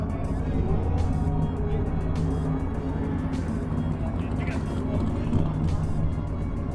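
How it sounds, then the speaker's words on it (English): Big-tire drag racing cars, a '55 Chevy and a Camaro, doing burnouts at a Sick Week drag strip in Gainesville, a loud steady engine roar over a track announcer talking throughout. "as we send the first big tire cars to do the burnout"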